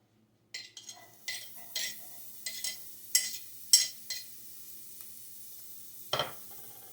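Onion added to a crock pot with beef drippings over low heat gives a quiet, crackling sizzle. It is broken up by several brief scraping clinks of a utensil stirring against the pot, and no one speaks.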